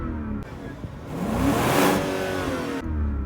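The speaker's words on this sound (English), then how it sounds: "The V8 allows me to rev it" A BMW 750i V8 revs up from idle to a loud, rising roar near 6,000 rpm, holds briefly, then drops back, heard from close by with no one talking.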